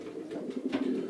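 A pigeon coos in low, soft warbling notes, with a brief rustle partway through, fairly close and moderately loud, with no talking.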